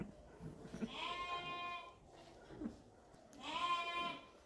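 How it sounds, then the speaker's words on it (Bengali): Sheep on a farm after lambing give two clear, fairly faint bleats with a quieter stretch and some rustling between them, heard at a moderate distance. "আমার সিট্টুপুরি এগরোর ভেড়া দুটো বাচ্চা দিয়েছে।"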